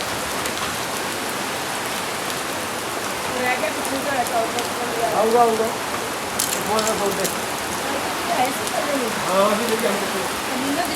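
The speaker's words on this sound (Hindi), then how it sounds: "बहुत बारिश हो रही है।" Heavy rain pours steadily during a pilgrimage walk on the Vaishno Devi route toward Bhairav temple, a dense constant hiss of drops on surfaces with a few voices faintly audible beneath.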